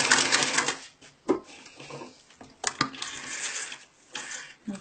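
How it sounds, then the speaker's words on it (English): Sewing machine stitching an invisible zipper seam, short bursts of rapid mechanical clatter broken by pauses and clicks, close and fairly loud. "sewing until the connection between the two seams, and then I'll backstitch"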